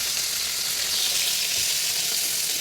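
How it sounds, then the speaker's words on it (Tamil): Chopped cabbage sautéing in a hot pan for sambar and poriyal, with asafoetida added, gives a continuous bright sizzle at steady volume, close and uninterrupted, with no voices. "சாம்பாருக்கும் பொரியலுக்கும் கோஸ் நல்லா வதக்கி விட்டுக்கலாங்க"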